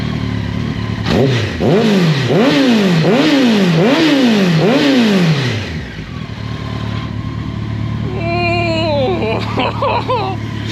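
A warmed-up Honda X-11 motorcycle engine with a new exhaust revs up and down in a rapid series of loud, close blips, then settles to a rumbling idle; someone speaks over it near the end.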